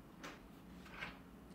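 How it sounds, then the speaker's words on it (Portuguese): A door being locked in a creepy short video gives two faint, brief mechanical clicks about three-quarters of a second apart, set against a quiet low room hum. "Trancou a porta."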